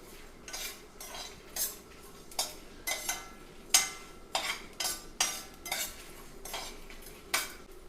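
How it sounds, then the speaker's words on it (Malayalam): A spatula clinks and scrapes in a pan as rasam spices are dry roasted without oil, with sharp metallic strokes repeating roughly every half second and no voices. "ഇനി എല്ലാം കൂടെ ഒന്ന് വറുത്തെടുക്കാം കേട്ടോ എണ്ണ ഇല്ലാതെ വറക്കണേ"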